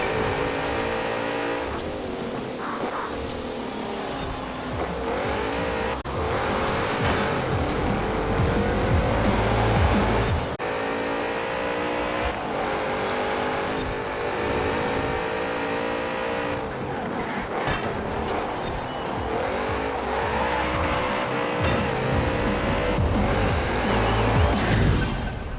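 Porsche 928 GTS in Forza Horizon 4, its engine revving and shifting through gears while tires squeal hard through corners, loud and continuous with repeated throttle lifts and rising pitch sweeps.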